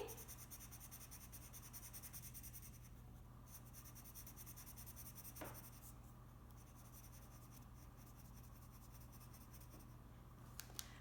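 Felt-tip pen drawing details onto a Christmas card, a soft continuous scratchy writing sound close up over a steady background hum, with a couple of brief sharper strokes.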